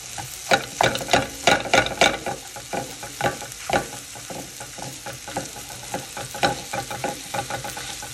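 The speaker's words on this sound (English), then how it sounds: "now I have the patties on, and since they're defrosted, it's really easy to just like kind of break them up" Defrosted beef patties sizzle in a frying pan while a utensil breaks them up, giving a rhythmic series of close, loud scraping and chopping strikes over a continuous fry hiss.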